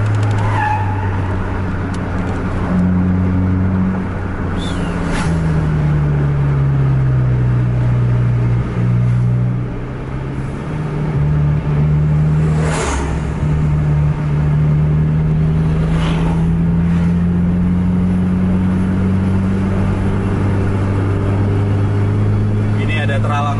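A Scania bus engine roars at high speed, about 140 km/h, while chasing a Volvo bus on the road. It makes a loud, continuous drone whose pitch slowly rises and falls, heard from inside the moving bus.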